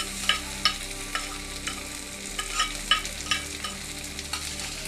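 Tomato and onion frying in a pan while being stirred, with a steady sizzle beneath repeated clinks and scrapes of the spoon against the pan, close and alone with no voices.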